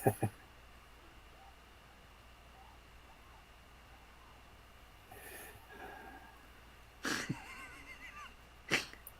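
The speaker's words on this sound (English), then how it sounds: "I feel another sneeze." A quiet room with a couple of sharp, brief sneezes near the end, plus a softer snort or sniff earlier.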